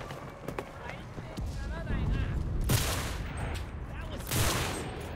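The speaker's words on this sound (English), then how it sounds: "I saw somebody shooting from behind." Gunfire in the World War II shooter Enlisted, Pacific War campaign: scattered shots and bursts with loud clusters, mixed with battle noise while players talk over it.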